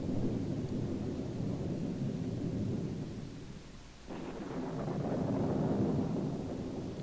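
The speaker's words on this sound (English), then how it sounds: "You gotta love the fake thunder and lightning" Staged thunder rolls through a scene in the horror film Night of the Living Dead, a long low rumble over steady rain and wind that dips briefly before swelling again.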